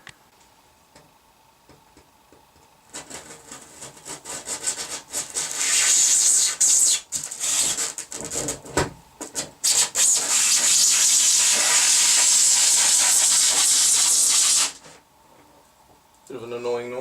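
An insulation sheet being sawn to fit a hole during a DIY build, giving a sustained, loud, rhythmic rasping of back-and-forth strokes for about twelve seconds, with brief pauses, then stopping.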